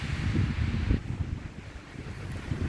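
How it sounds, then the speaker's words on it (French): Steady wind gusting and buffeting a microphone on a drizzly mountain pass in the Chaîne des Puys, France, a loud low roar that eases slightly partway through, with no voices. "Il y a du vent, il bruine."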